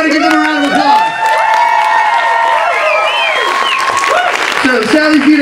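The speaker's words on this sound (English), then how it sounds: "Everybody give them a round of applause." Audience applause and cheering for a live band at a pot roast event, loud clapping and whoops mixed with shouting voices and some musical tones throughout.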